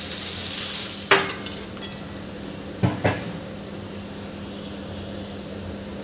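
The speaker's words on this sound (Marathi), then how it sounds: "आता यामध्ये आपल्याला हे जे आपण जिन्नस तळून घेतले होते मुरमुऱ्यासहित घालून घ्यायचं यामध्ये।" Fried ingredients and puffed rice for chivda tipped into a pan over low heat, then stirred, giving a few dry rustling clatters against a steady faint sizzle, with no one speaking.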